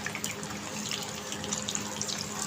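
Whole spices for Karachi biryani sizzle in hot oil, a steady, dense hiss and crackle that runs continuously at moderate volume without any talking.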